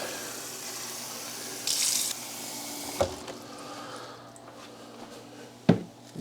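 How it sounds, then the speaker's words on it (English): A gallon of cold water is poured into a container while brining a turkey, giving a steady, moderately loud splashing gush that runs for several seconds, broken by a couple of sharp knocks. "second gallon of water in"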